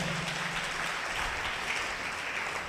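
A congregation claps loudly at a church service, a dense, steady wash of many hands that holds without a break and with no voices over it.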